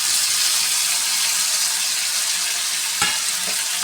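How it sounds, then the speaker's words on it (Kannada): Chopped onion and tomato sauté in a pan for a rajma stir-fry, giving a loud, continuous sizzle up close, with one brief clatter near the end. "ಚೆಂದಾಗಿ ಬಾಡಿಸ್ಕೋಬೇಕು ರೀ. ಈರುಳ್ಳಿ ಟೊಮೆಟೊ ಮೆತ್ತಗಾಗಬೇಕು."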